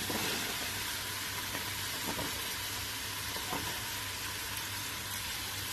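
Cubed potatoes frying and being stirred in a pan for a methi aloo dish, a soft, steady sizzle with a few light scraping strokes of the spoon, close and continuous without speech.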